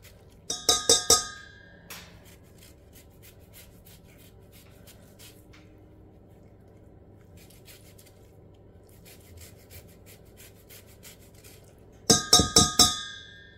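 Citrus zest being grated for a gluten-free citrus and chocolate cake: a quick burst of four rasping strokes, then near silence with soft shuffles, then another burst of rapid scrapes near the end.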